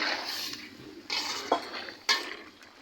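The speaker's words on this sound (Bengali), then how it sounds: "একটু লাড়াচাড়া দিয়ে দিতেছি।" A utensil scrapes and knocks against a pot while chicken and jackfruit curry is stirred, with soft background hiss and a few sharper clinks, fairly quiet and without talk.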